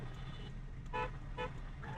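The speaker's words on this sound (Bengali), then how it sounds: "আবার হর্ন দেন" A car horn gives two short honks, close by, over a steady engine rumble while driving on a main road.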